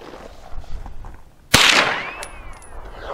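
One sharp 9mm carbine gunshot fired with Federal polymer jacket ammunition cracks out of a low outdoor background and then rings off, followed by faint metallic tinkles, likely the ejected case landing.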